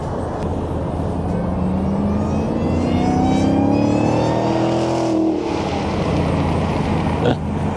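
A 2021 Dodge Challenger Hellcat Super Stock's supercharged engine accelerates, rising whine and roar sweeping upward as the car pulls away nearby, heard alone without talk.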